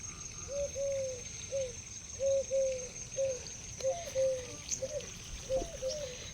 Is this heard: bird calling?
yes